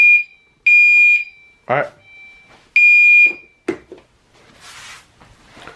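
A security system alarm sounds during a test, with loud piercing electronic beeps in two long bursts separated by thumps and handling noises, plus a brief spoken word.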